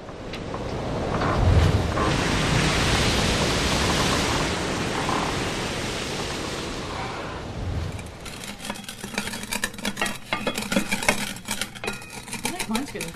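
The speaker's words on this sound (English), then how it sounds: "This is the sound of grain being milled in a way that it may never have been milled before." Loud, steady grinding roar of grain being crushed under a rolling cast iron skillet for several seconds, easing off into rougher, uneven crunching and rattling scrapes.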